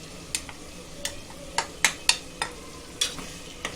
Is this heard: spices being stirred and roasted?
yes